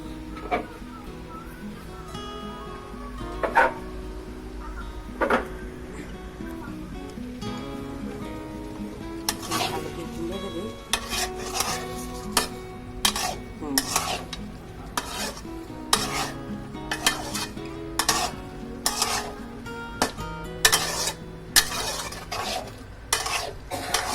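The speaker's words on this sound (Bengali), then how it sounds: "ভালো করে নেড়ে দিব।" Fried eggs and potatoes are stirred in a pan, with repeated scraping and clanking of a utensil against the pan over a soft sizzle, sparse at first and then quick and busy.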